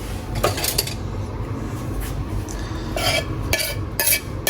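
A spoon scrapes and scoops softly cooked garlic and shallots around a pan, giving short clinking metallic strokes over a low steady background hum.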